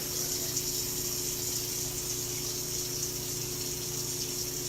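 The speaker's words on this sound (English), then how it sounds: "I'm going to wash my hands again" Water running steadily from a kitchen tap while hands are washed, a continuous close rushing hiss with no pauses and no talking.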